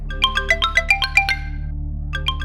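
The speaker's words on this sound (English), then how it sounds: "And it was annoying because it was ringing." A mobile phone rings indoors, a bright electronic ringtone of rapid repeating tones in a burst of about eight notes, a brief pause, then the pattern starting again over a low steady hum.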